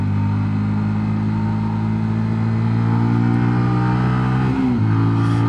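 A 2022 Sinnis GPX 125 motorcycle engine held in third gear at steady revs, a loud, close drone, with a brief dip and recovery in pitch near the end.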